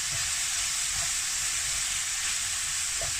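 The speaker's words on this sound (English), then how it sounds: "we're going to throw in the green onion and the chili, and we're going to mix those in" Chicken frying in a pan with green onion and chili gives a steady, dense sizzle throughout, close and loud, with faint stirring knocks and no voices.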